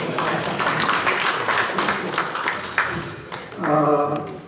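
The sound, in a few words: assembly applause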